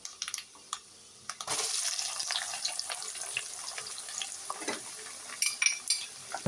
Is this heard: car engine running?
no